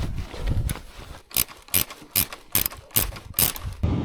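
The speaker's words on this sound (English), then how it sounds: "I've got a little ratchet spanner and you seem to be going at it for a long time" A small ratchet spanner clicks through a series of close, crisp bursts, about seven evenly spaced ratcheting strokes on a Triumph Tiger 900 Rally.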